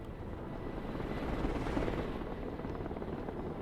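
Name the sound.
military helicopter flying in video game Broken Arrow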